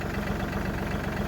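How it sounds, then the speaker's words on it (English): A tractor fitted with bucket forks idles steadily while warming up, a continuous low, throbbing diesel-style rumble with a regular pulsing beat, close and fairly loud, with no talking. "I have bucket forks on the tractor, getting it warmed up here."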